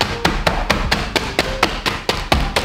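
A pestle pounds ripe fruit inside a plastic bag to make pruno, producing about a dozen quick, evenly spaced thumps, close and fairly loud, with a soft crinkle under each blow and no speech.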